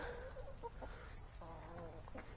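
Farmyard chickens cluck in a few short, close bursts over steady background noise, with some faint bird chatter mixed in.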